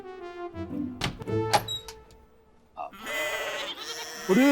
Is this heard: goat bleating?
yes